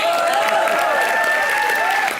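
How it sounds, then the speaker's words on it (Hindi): A studio audience at a Hindi comedy roast show applauds steadily for about two seconds, a dense wash of clapping with sustained tonal sounds running through it. "तालियां बजाओ भाई इनके लिए।"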